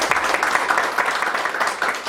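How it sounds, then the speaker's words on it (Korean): An audience at a policy forum on support for unmarried mothers applauds steadily, a short run of moderately loud, even clapping lasting about two seconds. "여러분 박수를 맞아주시기 바랍니다."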